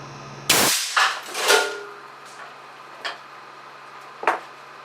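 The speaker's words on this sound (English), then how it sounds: "Caliber 410, 180 grain lead slug, 325 psi. And fire." An air cannon fires a .410 caliber 180 grain lead slug at 325 psi: one sharp, loud, close blast, followed by a few clanging and rattling impacts that fade over several seconds.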